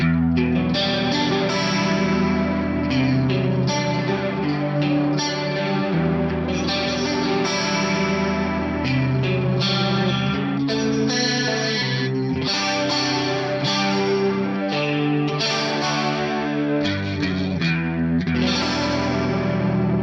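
Electric guitar played continuously through a faux rotary effect on an Axe-Fx unit, a swirling, warbling modulation imitating a rotating speaker, chords and melody ringing out steadily and loud.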